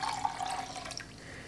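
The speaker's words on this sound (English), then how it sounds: "So I'm going to get some water here." Water runs from a tap into a container to cook quinoa, a near, steady trickling pour with a few small splashes and no talking.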